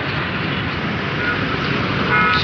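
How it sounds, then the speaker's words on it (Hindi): Dense highway traffic roars steadily and loudly throughout, and a short car horn toot rises faintly near the end. "भाई, ये ट्रैफिक ही ट्रैफिक है।"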